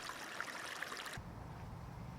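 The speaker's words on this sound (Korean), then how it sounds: "시냇물이 흘러가고" A flowing stream along a country road, a steady broadband water rush that drops abruptly to a lower, duller murmur partway through.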